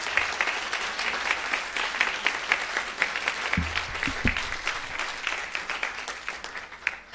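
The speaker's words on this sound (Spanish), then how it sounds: "Un aplauso para él también, por favor." An audience at a university humanities week event applauds steadily, a dense crowd of clapping hands sustained for several seconds at fairly even loudness, with a couple of low thumps partway through and no talk.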